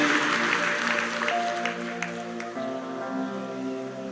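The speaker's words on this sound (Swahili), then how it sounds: "Wapigieni makofi mazuri" A church congregation claps through a Sunday service, steady dense applause running the whole time with sustained music or singing tones underneath.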